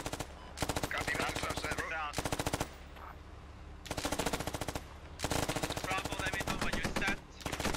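Bursts of SAW light machine gun fire in the military shooter Squad, several long rapid automatic strings separated by short pauses, loud and close, with radio-style voices talking between and over the shooting.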